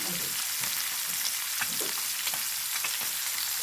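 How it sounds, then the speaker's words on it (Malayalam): Sardines frying in a pan, a steady close oily sizzle with faint crackles and pops throughout; no voices. "മത്തി അവിടെ പൊരിക്കാൻ വെച്ചതുകൊണ്ട്"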